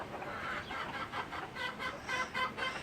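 Chickens in a greenhouse coop cluck softly in short repeated bursts while pecking and scratching around, a steady low murmur of hen noises with no speech over it.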